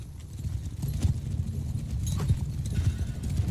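Cavalry horses galloping in a charge in the video game Mount & Blade 2: Bannerlord, a dense rolling drum of many hooves, loud and continuous with brief battle noise mixed in.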